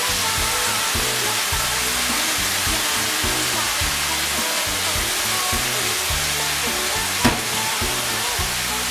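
Vegetables stir-fried in a wok with fish sauce, tomato sauce and oyster sauce give a loud, continuous close hiss and sizzle with a rapid, regular pulsing rhythm of tossing, plus one sharp clink near the end.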